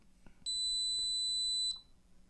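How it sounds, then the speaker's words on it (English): An electrohydraulic exomuscle unit gives a single steady, piercing electronic beep at startup, held for just over a second, loud and close, with faint mechanical clicks before and after. "It moves just very slightly, and it's going to beep."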